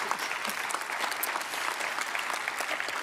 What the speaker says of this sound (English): a round of applause to all of our panellists for being here with us today